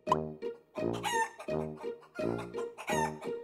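A person imitates a chicken in a series of clucking, crowing calls with vocal harmonics. There are about five close, fairly loud bursts with short gaps between them, and no other sound.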